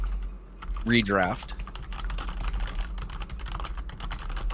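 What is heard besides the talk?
typing on a computer keyboard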